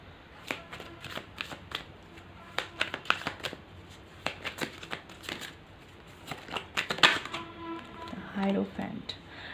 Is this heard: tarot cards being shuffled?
yes